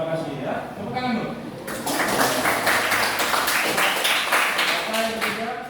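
A class of schoolchildren clapping hands together in a classroom, a dense burst of claps that swells partway through, with a teacher's voice and children talking over it.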